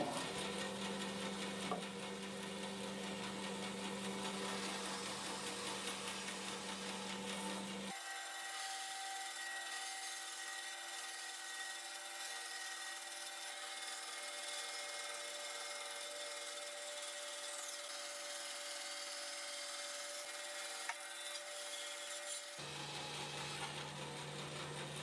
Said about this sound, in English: I can remove this on the bandsaw.